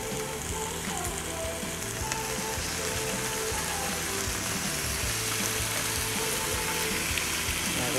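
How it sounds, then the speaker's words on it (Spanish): Pork chops frying in a little oil in a skillet, giving a steady, close crackling sizzle with dense popping that carries on without a break and with no voices. "Luego en un sartén ponemos un poquito de aceite y ponemos a sofreír las chuletas."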